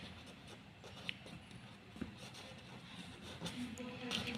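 Pen writing by hand on paper during a class 9 maths lesson: faint, soft scratching strokes with a few light taps, quiet and close, with no talking.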